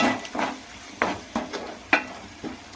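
Eggs cooking in a chili-spiced curry pan, with a soft sizzle under a series of sharp scraping stirs and light metal clinks at uneven intervals, close and moderately loud, no voices.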